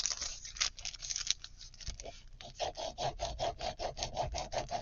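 Scissors cut through the card front of a shabby Christmas card holder craft, first in scattered rough snips, then in a steady run of evenly spaced, close, crisp cuts.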